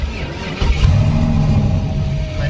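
A turbocharged Ford Fairmont engine catches and settles into a steady, rumbling idle, loud and close, with a brief rise in level as it fires.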